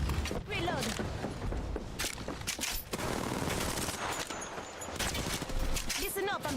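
Rapid bursts of gunfire from an Apex Legends match, with dense overlapping shots and loud sustained fire throughout, mixed with game effects and a voice talking over it.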